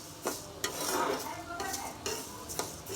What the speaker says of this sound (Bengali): ডালটা ভেজে নেব